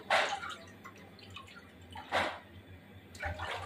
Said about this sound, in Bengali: একদম সুন্দর করে ধুয়ে নিচ্ছি।